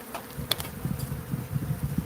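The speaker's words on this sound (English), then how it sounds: "all these bees that are flying around" Bees buzzing as they fly around outdoors under blue skies, a steady close insect drone with several overlapping wingbeat hums and no talking.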